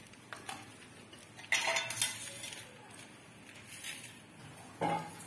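Utensils clinking against dishes as banda bhujia, a Hindi home-cooked snack, is served onto a serving plate; a few short, light metallic clinks and scrapes stand out against a quiet kitchen background.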